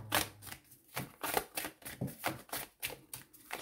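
Oracle cards shuffled and drawn during a tarot-style reading, a run of crisp riffling and slapping bursts repeating about every half second, close and fairly loud with no voice over them.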